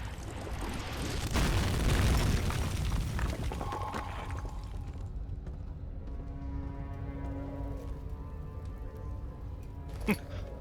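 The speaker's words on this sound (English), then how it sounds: "Don't stand too close to the blast when the explosive goes off." An explosive blast in the game Amnesia: The Dark Descent, a loud, rumbling low boom that opens the clip and decays over several seconds into crackling debris and quieter tonal ambience, with a sharp click near the end.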